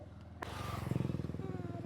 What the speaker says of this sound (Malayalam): നമ്മുടെ സ്കൂട്ടി